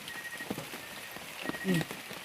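Steady rain falling on a surface, an even hiss with scattered drops, while people talk nearby and a brief higher sound cuts through.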